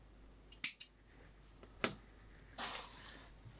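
Scissors snipping crochet yarn while fastening off, with a few quick close cuts, a double snip followed by single snips and a soft rustle at the end.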